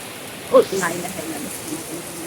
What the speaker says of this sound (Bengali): বৃষ্টি আছে মোটামুটি খুব জোরে না